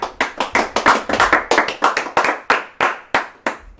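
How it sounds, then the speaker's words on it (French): A church congregation claps loudly in quick, steady rhythm, a dozen or so sharp bursts that thin out toward the end, close and alone with no talk. "Acclamez très fort pour la parole de Dieu."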